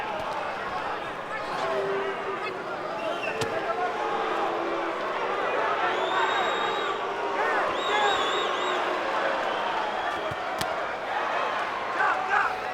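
A boxing arena crowd murmurs and stirs during a fight between Oscar De La Hoya and Félix Trinidad, a broad, distant roar that swells a little now and then beneath steady ringside commentary.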